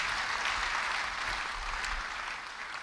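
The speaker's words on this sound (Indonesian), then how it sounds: "Yang percaya beri tepuk tangan bagi dia." A church congregation applauds together in a steady, dense wash of clapping that fades slightly at the end.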